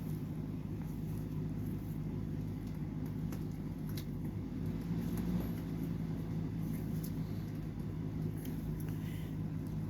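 Electric fan running steadily indoors, a constant low hum with a faint high whine, continuous and even throughout with no talk.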